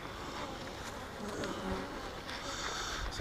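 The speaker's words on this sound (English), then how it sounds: "I got several mad bees out already" Agitated honey bees buzz steadily during a honey harvest at the hive, a dense, close droning swarm that stays continuous throughout.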